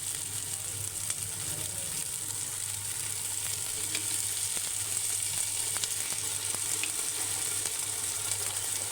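Chopped tomato sizzles in a frying pan with garlic for a Tamil Nadu mutton biryani, a steady loud frying hiss carrying on without a break, with faint stirring clicks and no talk.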